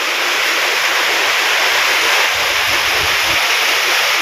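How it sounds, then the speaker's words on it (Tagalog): Sudden strong wind with rain in the countryside, a loud, steady broadband rush that roars without a break from start to finish, with no voices. "Ang lakas po ng hangin, biglaan. Sabay ulan"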